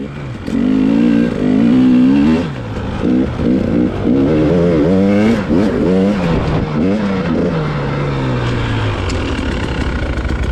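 Two-stroke dirt bikes with studded tires ride through snow, their engines revving up and down in repeated rising and falling bursts, loud and close, then one bike's pitch slides lower as it moves away.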